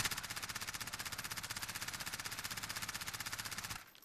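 Video game gunfire empties a whole magazine in one sustained automatic burst of rapid, evenly spaced shots, fairly faint, then stops abruptly at the end.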